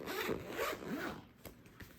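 The zipper on a zippered binder of card holders used for diamond painting drill storage rasps along in a few quick close-up pulls.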